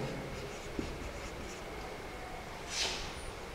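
Pen or pencil scratches out numbers by hand on paper in a quiet room, faint, close strokes in a loose steady rhythm, with no talking.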